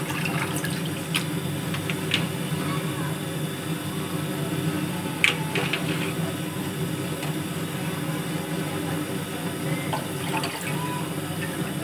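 Rice is swished around by hand in a pot of water, giving a steady, close wet sloshing and trickling with a few small splashes throughout, with no talking.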